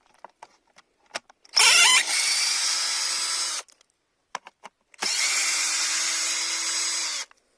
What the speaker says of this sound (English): So I got my screwdriver and let's take out the screws.